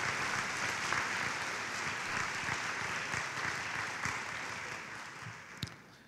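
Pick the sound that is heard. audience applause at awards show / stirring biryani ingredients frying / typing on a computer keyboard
audience applause at awards show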